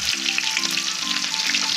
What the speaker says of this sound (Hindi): लहसुन डाला है और साथ ही में डाली हमने मिर्च, इनको पका लेंगे अच्छे से।